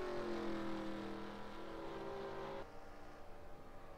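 A race car in a racing video game roars past with a steady high engine drone, then the pitch drops sharply as it goes by.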